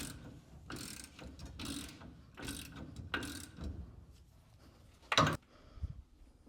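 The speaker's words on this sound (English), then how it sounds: "Get another bolt with a washer, tighten that one down, and leave it all week." A ratchet tightens a bolt on an engine during an engine installation in a garage for a street-legal NASCAR build. It sounds as several short bursts of quick clicking, close and fairly quiet, separated by pauses, with one sharp metallic clack near the end.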